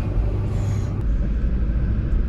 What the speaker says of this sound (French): Et il y a des voitures qui passent les gars,